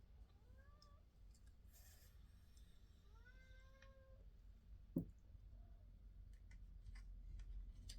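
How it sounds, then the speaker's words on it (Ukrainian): A cat yowls indoors in several drawn-out rising meows, fairly faint against a quiet room with a soft tick and a brief knock midway. "Кіт прям тут уже все волає."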